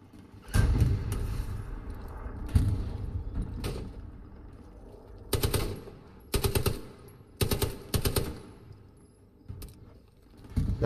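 Gunfire in the WWII shooter Hell Let Loose on the El Alamein map, bursts of loud sharp automatic shots in clusters separated by quieter gaps, with faint rumble between volleys and no talk.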